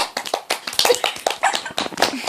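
A small group of children claps at a home-made singing contest, the sharp, uneven hand claps close and scattered rather than in unison, with no talk over them.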